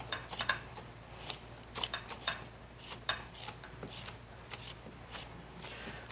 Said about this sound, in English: I'll chop some of the cilantro here.